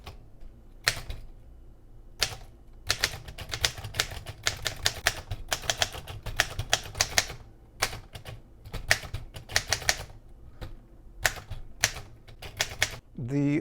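A Corona Four typewriter types in quick clattering bursts of key strikes with short pauses between runs, close and clear. Talking is faint or absent, and a carriage or bell sound comes near the end.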